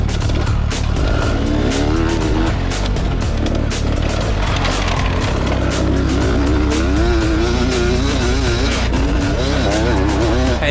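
An enduro motorcycle slides around a slippery dirt track during hot laps, its engine loud and close, rising and falling in pitch as the throttle is worked, with tyres scrabbling beneath.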